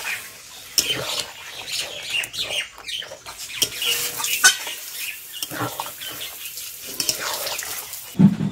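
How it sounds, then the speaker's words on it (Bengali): Water is poured into a pan of cauliflower korma while it cooks, making uneven splashing and patter with light clatter throughout and a brief knock at the end. "জল"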